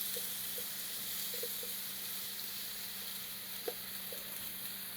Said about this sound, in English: It's starting to saute.